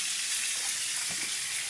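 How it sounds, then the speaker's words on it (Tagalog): Food fries in a pan in a home kitchen, giving a steady, dense sizzling hiss close by with faint clinks partway through and no voices. "At ako nagpiprito pa."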